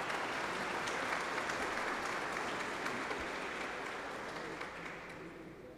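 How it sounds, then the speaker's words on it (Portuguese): Sustained applause fills a hall at a solemn ceremony honouring Brazilian Second World War veterans, a dense even clapping from a large audience that slowly fades toward the end. "Uma salva de palmas aos nossos agraciados."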